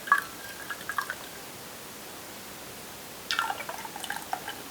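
Beef bone broth pours through the larger strainer of a fat separator into a wide-mouth quart jar, giving two bursts of soft liquid trickling and dripping, one at the start and one near the end, with quiet between.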